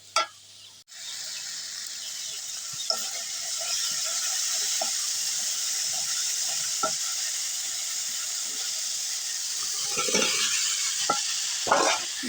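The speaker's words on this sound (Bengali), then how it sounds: "আমি আলু আর মাংস একসাথে ভাজছিলাম।" Potatoes and chicken frying together in a pan, a steady close sizzle running throughout with occasional scrapes and clinks of stirring, louder near the end.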